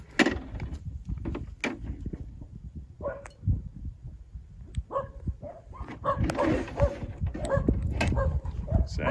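Excited puppies yap and bark in scattered bursts, growing busier and louder toward the end, mixed with soft bumps and whimpers in a room where a gun is being cleaned.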